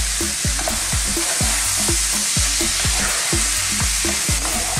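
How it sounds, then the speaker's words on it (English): Chopped fresh tomatoes go into a hot pan for a spicy broccoli bake, and a loud, steady sizzle follows, with regular rhythmic scraping thumps from stirring running throughout. "Then those fresh tomatoes chopped, in they go."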